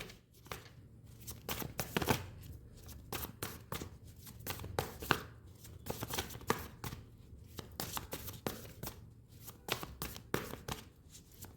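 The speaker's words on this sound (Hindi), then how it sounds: "I'm just shuffling" Tarot cards being shuffled by hand in a close, steady series of crisp riffling taps and flicks that run without a break.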